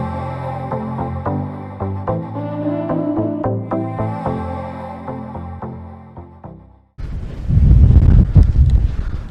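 Gusty wind buffets the microphone outdoors at a metal-detecting site in the UK, a loud, low rumbling roar that swells abruptly after a quieter, tonal stretch.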